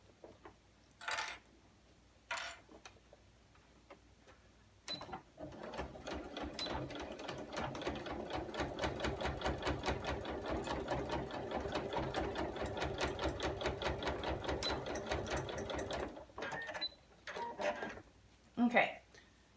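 A sewing machine runs in a long continuous burst, stitching along the edge of a fabric zip pouch. Rapid, even needle strikes sound close up, and brief clicks and handling noises come before and after.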